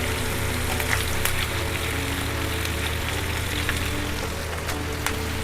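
Green chillies and onion frying in a pan for chicken stew, a dense continuous sizzle under a steady low hum, with a few faint clicks of stirring and no speech.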